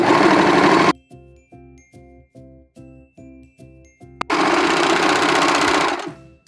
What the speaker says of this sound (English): Now let's sew the other one up.